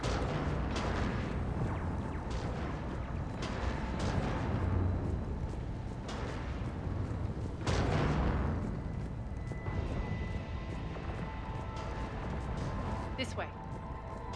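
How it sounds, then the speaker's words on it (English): Heavy cannon fire in the video game Mass Effect 3, with repeated deep booms and blasts rolling over a dense battle din throughout, loud and close. "Those cannons have to be stopped."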